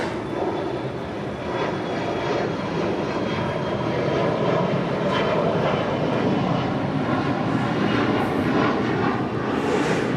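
Delta 767-400ER jet airliner at Los Angeles International Airport, arriving from JFK, producing a steady, loud broadband engine roar that holds throughout with no break.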